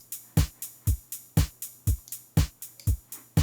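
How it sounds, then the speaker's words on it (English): A programmed four-on-the-floor drum pattern from Ableton: a kick thumps on every beat with a crisp hi-hat ticking on every eighth note, tight and even, repeating through the whole stretch. "4 on the floor will sound like this."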